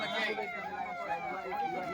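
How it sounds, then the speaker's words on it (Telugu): An ambulance siren wails in repeated sweeping tones, fairly faint and somewhat distant, with voices murmuring underneath. "మరి దీంట్లోకి ఒక అంబులెన్స్ సౌండ్"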